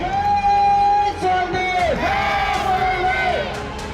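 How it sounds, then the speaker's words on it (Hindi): Supporters welcome Rajbhar at a rally in Katihar, Bihar, with a loud crowd of cheers and yells filling the whole stretch, rising and swelling in waves close by. "राजभर जब बिहार के कटिहार पहुंचे तो उनके समर्थकों ने गर्मजोशी से स्वागत किया"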